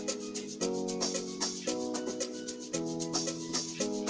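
A programmed drum pattern from FL Studio Mobile for an amapiano-style track loops with crisp, brushy percussive hits over short tonal stabs; even rhythm and moderate level, with no voice.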